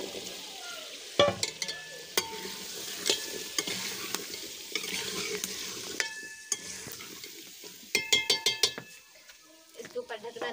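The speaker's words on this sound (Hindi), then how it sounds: "तो गोंग शलजम मैंने इसमें डाल दिए थे ना, तो अच्छी तरह इसको भुनी भी आ गई है।" Turnips fry in curry masala in a pan with a steady soft sizzle, while a utensil stirs and scrapes and metal clinks against the pot, growing busier near the end.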